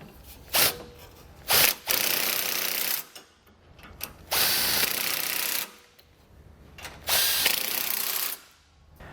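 A ratcheting socket wrench on an extension tightens the bolts of a Roadmaster Direct-Connect base plate on a 2015 vehicle, making three long runs of rapid clicking with quiet gaps and a few single sharp clicks between them.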